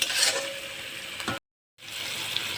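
Spice masala with coriander powder sizzling and frying in a pan, a steady close hiss with stirring scrapes, briefly cut to silence before the frying resumes.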